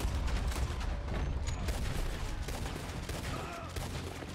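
Dense, continuous gunfire from a shootout in Red Dead Redemption 2, with many overlapping shots and booms that blend into a sustained barrage throughout.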